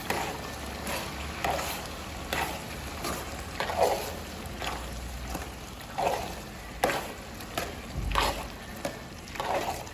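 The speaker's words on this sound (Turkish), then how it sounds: "Şimdi annem patateslerini ekledi. Şimdi patateslerimiz de kavrulacak biraz." Potatoes fry with onion and tomato paste in a pan, giving a constant soft sizzle. A spoon stirs them in regular scraping strokes about once a second, close and moderately quiet.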